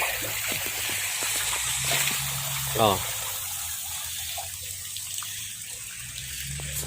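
Water from a solar-powered pump runs and splashes continuously from a pipe, with a steady rushing flow and occasional clatter in the background.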